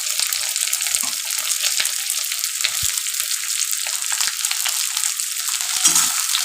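Chopped onions hitting hot oil in a pan for a mango chicken dish give a steady, close, bright sizzle with occasional light clinks and stirring scrapes; no one speaks.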